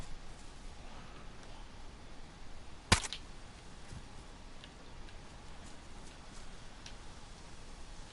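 One suppressed gunshot in the survival video game DayZ cracks out as a single sharp, brief report partway through, standing above a faint, steady hiss of background ambience with no talking.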